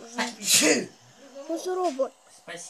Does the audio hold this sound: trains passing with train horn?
no